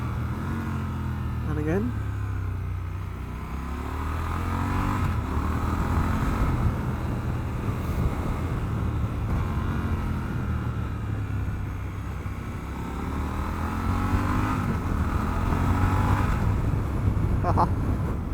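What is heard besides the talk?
Triumph Scrambler 1200 XE motorcycle engine with slipper clutch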